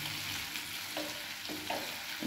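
A sweet mixture is stirred as it cooks in a pan. Scraping spoon strokes come in slow repeated passes over a continuous close sizzle, with no voices.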